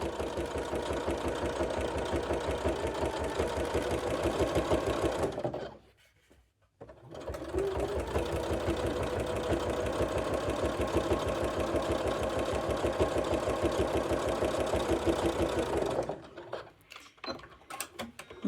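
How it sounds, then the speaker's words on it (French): A sewing machine stitches a seam on jeans along the edge of the presser foot, its fast, even rhythmic clatter running loud and steady, pausing briefly near six seconds, then resuming before slowing to a stop. "maintenant, je vais venir coudre en suivant bien ma ligne beige sur le bord de mon pied presseur"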